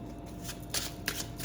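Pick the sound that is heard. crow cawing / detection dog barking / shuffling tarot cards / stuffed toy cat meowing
shuffling tarot cards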